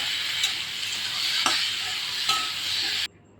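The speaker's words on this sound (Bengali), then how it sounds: "এবার পরিমাণ মতন হলুদ গুঁড়ো দিয়ে হালকা করে একটু ভেজে নেবে" Curry with salt and turmeric powder frying lightly in a pan, a steady close sizzle broken by a few scraping stirs, cutting off abruptly at the end.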